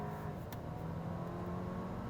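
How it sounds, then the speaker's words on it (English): An Audi A4 B9 with a Neuspeed power module accelerates hard under launch control, its engine note a steady loud drone heard from inside the car, with no talking. "let's do a launch control and let's see how much the car is transformed"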